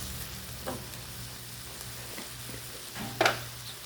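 Chicken sizzles and fries in a hot pan, a steady crackling bed with occasional stirring clatters and a louder scrape near the end, with no voices.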